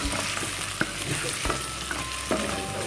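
Sausage and garlic fry in olive oil, a constant close crackling sizzle broken by several spatula scrapes and taps against the pan.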